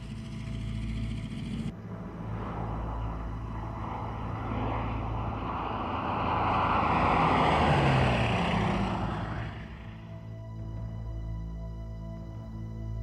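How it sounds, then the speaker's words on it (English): A Bristol Blenheim WWII bomber's engines drone steadily as the plane rolls, swelling louder midway before easing back to a constant rumbling hum. "Pilot John Larkham powered up the engines and the Blenheim began to roll."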